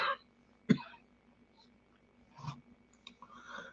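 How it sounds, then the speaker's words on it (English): A single sharp cough bursts out close by, followed by quieter throat sounds and soft mumbling in an otherwise quiet room. "Excuse the coughing, everybody."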